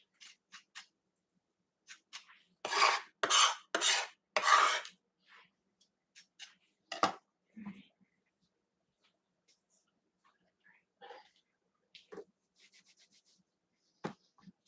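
A knife finely chops an ingredient for pico de gallo on a cutting board, with a few scattered taps and then a quick burst of four crisp chops, close and otherwise quiet.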